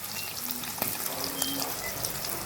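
Fish frying in a pan of hot oil, a steady close sizzle with a few sharp pops and crackles over about two seconds, no voices.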